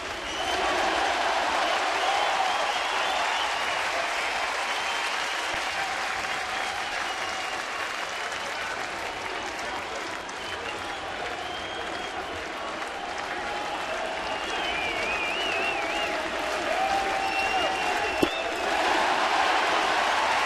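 Baseball stadium crowd at a Colorado at Toronto game roars and applauds after a home run, a loud, steady wall of cheering and clapping sustained throughout with distant voices mixed in.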